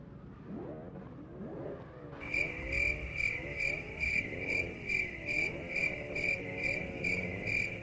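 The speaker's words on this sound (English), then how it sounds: "I can still hear the damn crickets through my headphones, Damien." Crickets chirp in a steady, fast pulsing trill that starts abruptly after about two seconds and continues loud and close, over a low rumbling engine-like drone, with no talking.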